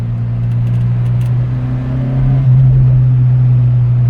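Fiat X1/9 sports car on a favourite driving road, its engine droning steadily with a strong low hum that swells louder near the end as it pulls through the gears, heard continuously without talk.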